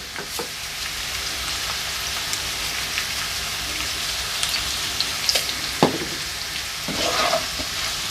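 Potatoes, mushrooms and onions fry steadily in a pan for an omelette, a soft continuous sizzle with occasional louder clicks and scrapes of stirring, close by and with no talk.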